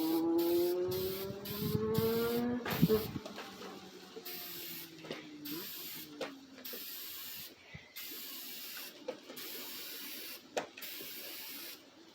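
Aerosol spray paint is applied to an enclosed trailer, starting with a rattling can shake and then short repeated bursts of hissing spray separated by brief gaps, fairly close.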